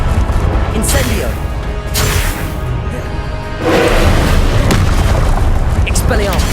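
Incendio fire spell cast in combat in Hogwarts Legacy, loud booming bursts and whooshing fiery rushes layered over a constant roar, with a voice heard amid the effects.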